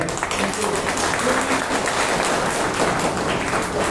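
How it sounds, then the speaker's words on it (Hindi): A church congregation claps loudly and steadily at a Good Friday service, a dense wash of applause filling the room with voices mixed in. "ताली, जोर से ताली बजाएं"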